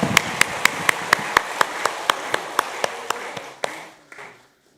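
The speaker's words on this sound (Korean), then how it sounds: "다시 한번 환영의 박수하겠습니다." A church congregation at Sunday worship gives welcoming applause that comes through as slow, evenly spaced sharp claps, fairly distant over a soft wash of room noise, gradually fading and trailing off toward the end.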